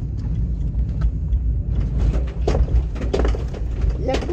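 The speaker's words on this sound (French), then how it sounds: "il y a de la bagnole aujourd'hui là" Road traffic with cars passing nearby, a steady engine rumble swelling and fading as vehicles go by, with rattles and clatter mixed in and people talking over it.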